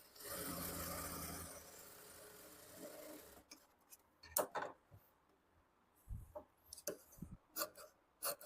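Sewing machine stitching a piece of cloth near a cut back neckline whirs in one short, even burst, then falls quiet, followed by scattered soft clicks and handling taps, close and fairly faint.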